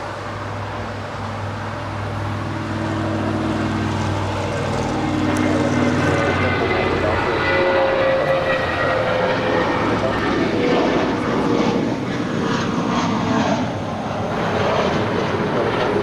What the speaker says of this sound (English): American Airlines Flight 632 in this Old America West A320 heading to Austin, Texas. Now rolling down 25 right.